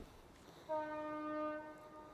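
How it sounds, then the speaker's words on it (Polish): A train horn sounds once in a steady, sustained tone for under a second, fairly distant over a low background rumble. "No, głośno tu trochę. Pociągi jeżdżą."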